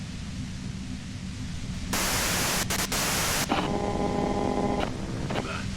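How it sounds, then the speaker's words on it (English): Loud white-noise static hisses in the Disco Elysium video game, a bright burst rising over a low ambient hum, with brief dropouts and a tonal electronic patch before fading back to the low drone. "you can do it through the white noise"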